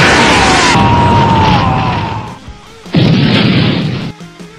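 A cartoon ray gun from Ghost Fighter fires a loud crackling blast with a falling whistle. After a short lull, a second booming burst follows.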